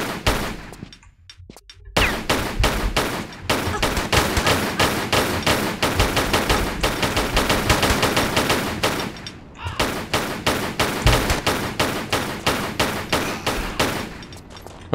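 Gunfire in the Tomb Raider III video game while a sniper is shot at Thames Wharf, heard as loud, rapid, sustained bursts of shots with a brief pause between volleys.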